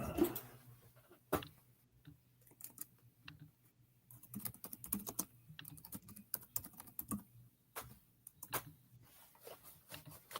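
Computer keyboard typing in bursts of quick, close clicks and clacks, pausing and resuming irregularly at a moderate level, with no talk over it.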